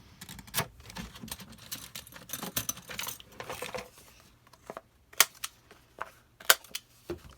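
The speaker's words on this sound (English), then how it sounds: "I am going to round my corners on this piece here." A corner rounder punch snaps through paper corners for a folio album in a few sharp, separate clicks near the end, after quieter handling and rustling of the paper.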